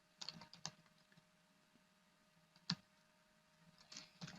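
Keys tapped on a computer keyboard while entering a Linux rmdir command, a few quiet clustered clicks, then a single louder keystroke and a final short burst, faint in a quiet room.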